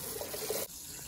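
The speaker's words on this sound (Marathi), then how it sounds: "आता आता नॉर्मल पाणी येत आहे" A kitchen tap runs with a steady splashing stream, first rusty water and then clear, holding for about two-thirds of a second before the flow drops to a softer, quieter trickle.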